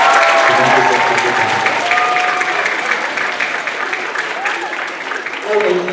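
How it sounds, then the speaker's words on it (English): Applause from a high school concert audience fills the hall, with steady, dense clapping that holds through the whole stretch and swells slightly again at the end, with some voices mixed in. "Let's have a round of applause."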